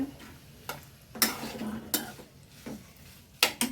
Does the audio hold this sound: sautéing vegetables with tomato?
yes